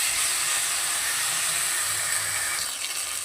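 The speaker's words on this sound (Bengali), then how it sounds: "এবার সমস্ত মশলাগুলোকে খুব ভালো করে কিন্তু কষিয়ে নেব" Ground spices with ginger paste frying in a pan for a Bengali fish curry, giving a steady, loud broadband sizzle and hiss that holds unbroken throughout with no talking.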